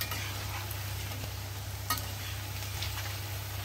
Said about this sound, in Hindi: इसमें छोंक लगाना है, कड़ी पत्ते की छोंक लगाना है यहाँ पर, और लाल मिर्ची की और मेथी की